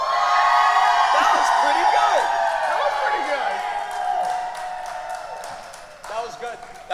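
A convention crowd cheers and whoops after a panel at the Too Many Games 2021 gaming convention, loud and close at first, with scattered yells and clapping that fade out.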